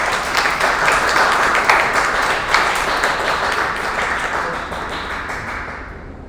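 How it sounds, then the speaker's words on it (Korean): A church congregation applauds to welcome a pastor at a Sunday service, a dense, steady wash of clapping from many hands that fills the room and slowly fades toward the end. "큰 박수로 우리 김하진 목사님 환영해 주시길 바랍니다."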